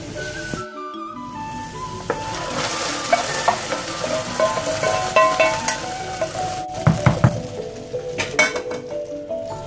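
Browned fried onions in hot oil hiss and sizzle as they are stirred into a pot of Lahori nihari, with loud bursts, spoon clinks and scraping over a steady fry.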